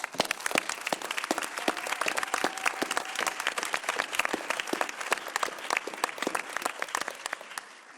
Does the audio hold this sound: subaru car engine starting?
no